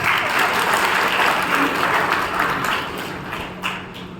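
An audience at a Brahma Kumaris talk in Shahabad Markanda claps steadily and fairly loudly for about four seconds, a dense wash of hands that fades slightly near the end.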